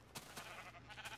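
Sheep bleating at a sheep farm in a video game, a few short wavering bleats repeating over about a second, moderately close with a steady background bed.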